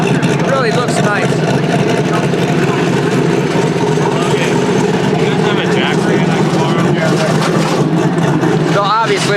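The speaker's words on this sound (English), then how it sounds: "Just my conventional big block Chevrolet for a mullet. It's got the cool titanium exhaust" Big block Chevrolet engine with titanium exhaust idling loudly and steadily at a drag racing event, a thick, continuous rumble with people talking over it.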